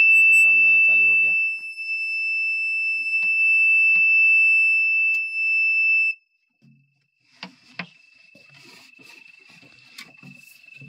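An unfastened seat-belt warning alarm in a bulldozer cab sounds as a continuous, piercing electronic tone after a brief spoken voice. It cuts off partway through, then faint clicks and rattles follow as a quieter version of the tone returns.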